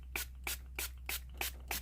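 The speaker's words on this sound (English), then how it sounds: "I'm gonna spray it." A spray bottle of reactive Distress ink spritzes six quick, evenly spaced bursts over a surface, close and crisp against a low steady hum.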